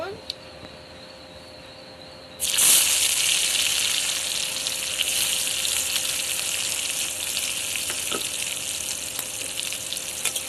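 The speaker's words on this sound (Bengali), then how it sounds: "রসুনটা লাল করে ভেজে নেব" Garlic dropped into hot oil in a pan, bursting into a sudden loud sizzle that then holds as steady, close frying, with a few faint clicks on top.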